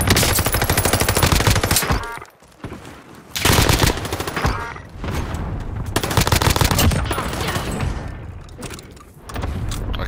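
Rapid automatic gunfire in an online shooter game, loud and close in long sustained bursts with short pauses between, mixed with engine-like rumble, without anyone talking.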